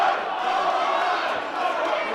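Wrestling arena crowd roaring and chanting steadily after a guitar is smashed over a wrestler's head, a dense broad wall of massed voices sustained throughout at even loudness.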